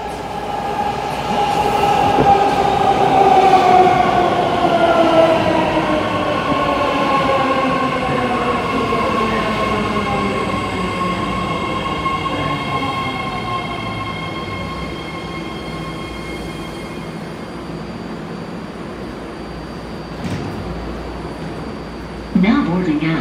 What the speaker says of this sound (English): This is a blue line train to Dublin Pleasanton.